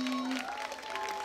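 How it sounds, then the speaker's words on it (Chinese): A short burst of audience applause welcoming a singer at a live concert, a dense patter of clapping with a held tone and voice layered over it. "掌声欢迎"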